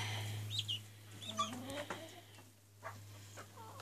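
Older hens, some with Silkie traits, cluck softly in a winter coop, with faint scattered calls over a steady low electrical hum.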